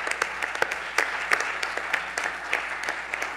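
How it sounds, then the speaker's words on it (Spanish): An audience claps for a children's rock band at an award ceremony, a steady stream of close, crisp handclaps with scattered louder individual claps, continuous and without talk. "Nacho, que le pido un aplauso para el gran Nacho"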